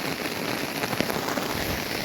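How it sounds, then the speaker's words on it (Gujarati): Heavy rain pours down steadily, a dense, even hiss of drops drumming on surfaces with no other sounds. "જોઈ શકો છો તમે મિત્રો વરસાદ કેટલો ખાસ પડે છે"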